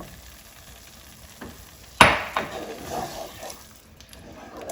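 Coconut milk pours into a hot pan of potato masala, setting off a sharp burst of loud frying sizzle that settles into a steady crackle with stirring scrapes, no voices.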